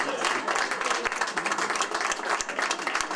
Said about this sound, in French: Et notre première secrétaire ici, à côté de nous, qu'on peut applaudir aussi et la remercier.